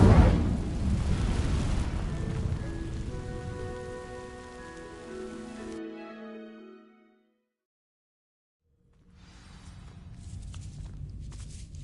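Dry vines catch fire in a video game, a loud crackling, rain-like burning rush that gradually fades into silence, then a softer crackle returns near the end.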